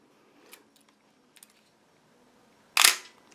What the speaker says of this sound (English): We show the action of the shutter.